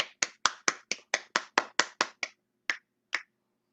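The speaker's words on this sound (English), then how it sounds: "everybody give Julia a round of applause" A few sharp claps from a small group after a girl named Julia shares her story, about a dozen quick even claps that thin out to two last isolated ones, close and dry.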